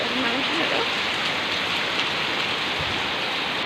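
Heavy rain pours down amid flooding water, a dense, loud, unbroken roar of falling water that fills the whole scene.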